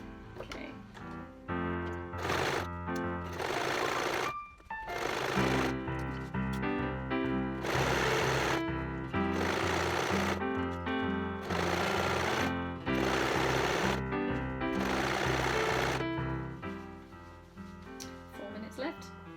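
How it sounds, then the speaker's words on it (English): Sewing machine stitching a hem in repeated bursts of fast, loud mechanical whirring separated by short pauses, with no talk over it. "I'm just gonna sew it and see how long it takes"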